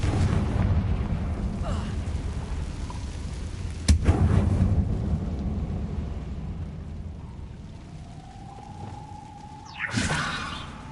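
A Confringo fire spell blasts in the video game Hogwarts Legacy, sending a sharp boom through a continuous low rumble, followed by a second burst near the end amid the game's ambient sound.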